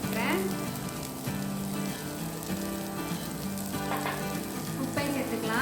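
Capsicum with turmeric and chili powder sautéing in a pan: a steady, close sizzle and frying crackle runs throughout, with occasional stirring scrapes and a faint voice in the background.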